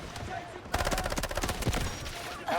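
Enemy gunfire crackles in the Delta Force shooter, a dense rapid burst of loud automatic shots following a brief lull, with other game sounds underneath.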